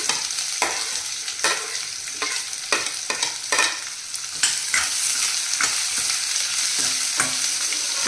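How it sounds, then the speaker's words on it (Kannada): Onion pieces frying and being stirred in hot oil in a pan for a beetroot palya, steady sizzle broken by repeated sharp scrapes and knocks of a spatula, close and loud, no talking. "ನೆಕ್ಸ್ಟು ನಾನು ಈರುಳ್ಳಿ ಹಾಕ್ತಾಯಿದ್ದೀನಿ"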